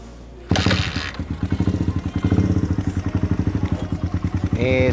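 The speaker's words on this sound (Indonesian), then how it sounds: "Ini suara knalpotnya ini lumayan ngebas." A Suzuki Thunder motorcycle with an aftermarket exhaust starts abruptly and settles into a deep, throaty idle with a steady pulsing rhythm, close and loud, with no talking.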